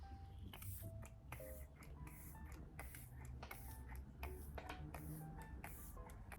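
An e.l.f. setting spray bottle spritzes onto a face in a quick series of short, soft bursts, roughly a dozen puffs in an uneven rhythm, quiet and close.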